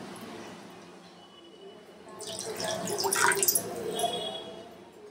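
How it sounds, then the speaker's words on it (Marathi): Water pours into a cooking pot used for boiling soybeans for soya chilli, a splashing stream that swells toward the end of the short clip, heard up close. "आता ह्याच्यात घेऊया पाणी."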